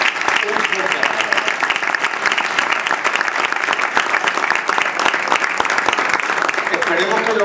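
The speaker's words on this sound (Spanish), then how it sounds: "Que se merece efectivamente un fuerte aplauso." A crowd at a cultural gathering in Montijo gives a long round of dense, steady applause that carries evenly from start to finish.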